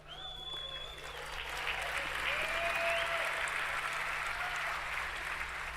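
A large audience at the Odoo 19 release event applauds steadily, the clapping swelling and then holding as a dense wash of sound.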